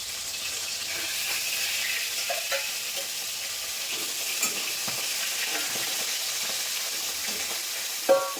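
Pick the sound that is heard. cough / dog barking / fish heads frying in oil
fish heads frying in oil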